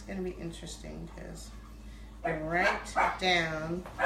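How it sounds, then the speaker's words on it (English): A pet dog barks a few times indoors, short yips heard under someone talking in a craft room, then louder sharp barks alongside her voice. "That was my dog"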